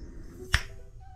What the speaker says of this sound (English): Just do the old finger snap.